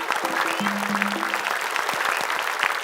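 Studio audience at a team quiz show breaks into lively clapping, dense and continuous, with a brief tonal musical jingle playing over the start.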